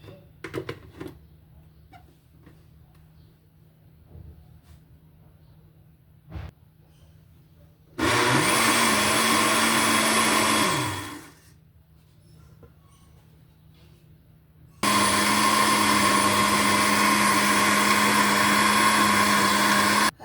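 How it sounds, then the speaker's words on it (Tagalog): A blender whirs loudly blending soybeans in two bursts, first for about three seconds then winding down, and again after a pause, over a quiet room hum. "Tapos i-blender na natin."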